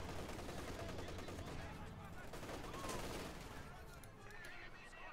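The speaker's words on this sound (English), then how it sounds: "machine gun right here by the conscripts" Gunfire in the Company of Heroes 2 strategy game: continuous distant machine gun bursts and battle noise in a dense, faint mix, with no clear talk.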